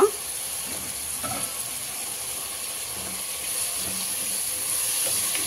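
Meat fries in a pan, a soft continuous sizzling hiss that grows slightly louder toward the end, with a few faint clinks near the start.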